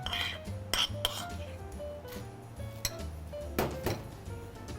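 A metal spoon clinks and scrapes against a whisking bowl as tomato paste is stirred into oil, giving several sharp taps and rattles close up over a quiet background with no talk.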